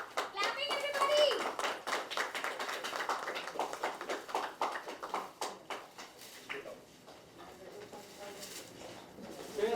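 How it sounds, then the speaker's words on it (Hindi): An audience claps at a song launch, a brisk, dense patter of many hands that thins out after several seconds while voices talk over it. "Clapping everybody."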